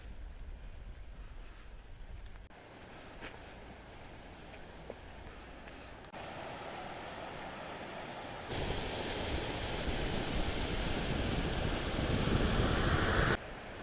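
The French Broad River at Hot Springs, North Carolina, flows as a steady broadband wash of moving water, growing louder and fuller partway through, with some wind buffeting and no voices.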